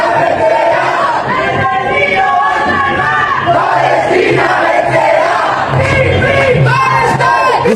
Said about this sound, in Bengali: স্পেনের নাগরিকরা ফ্রি ফ্রি প্যালেস্টাইন স্লোগান দিয়ে তারা বাড়ির দিকে